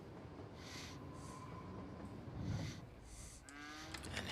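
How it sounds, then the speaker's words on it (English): In a city-building game, a train rumbles at a station serving a farm export area, a steady low rolling drone with faint squealing and chuffing bursts, no voices. "here's the train station to take finished farm goods out for export"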